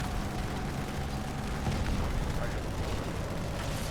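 Halo 2 Wraith bombs exploding in a roaring, continuous wash of heavy blasts and rumbling debris, loud and close for the whole stretch.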